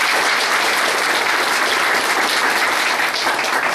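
An audience at an anniversary celebration for a women's clinic applauds loudly, a dense, steady wash of clapping filling the whole stretch without letup.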